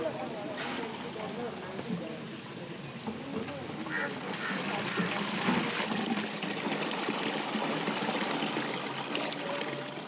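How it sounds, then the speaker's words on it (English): Water runs steadily from a communal tap in an Indian slum in the early hours, a continuous splashing trickle under nearby voices and background bustle. "the girls are at the slum water tap"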